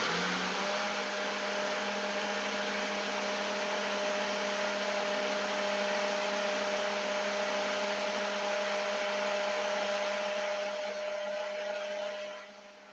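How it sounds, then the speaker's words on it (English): A Ninja blender whirs at a steady high pitch while blending banana, blueberries, flax seeds and water into juice, running loud and continuous up close before winding down at the end. "the ninja blender here for this one."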